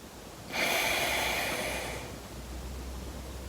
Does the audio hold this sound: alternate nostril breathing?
yes